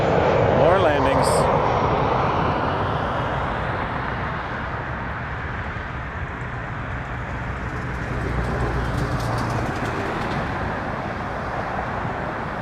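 An airliner coming in to land at Toronto Pearson airport at night, a steady broadband engine roar that holds moderately loud throughout, with a low rumble swelling near the end and faint radio chatter in the background.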